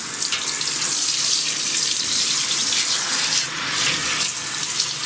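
Water runs steadily from a tap, a continuous hissing splash that shifts slightly as a Pomeranian dog is washed under the stream.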